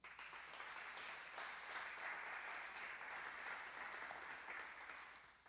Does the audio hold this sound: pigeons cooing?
no